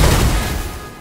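A single loud, close gunshot in the video game Wasteland 3, a sharp booming blast that rolls off into a decaying rumble within about a second, heard on its own.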